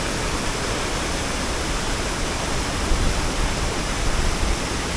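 A waterfall in full flow at Malham on a cold November day gives off a steady, dense rushing roar, loud and unbroken throughout with no voices over it.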